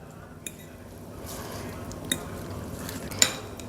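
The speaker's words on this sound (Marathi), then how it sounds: "हे सगळं आता मी मिक्स करून घेणार आहे।" Chicken being mixed with finely chopped mint and spices in a pot, soft wet stirring with a few distinct metallic clinks of a spoon against the pot, fairly quiet and close.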